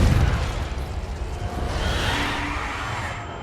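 Confringo blasting spell going off in the video game Hogwarts Legacy, a loud broadband burst with a rushing whoosh that swells and lingers for a few seconds before fading.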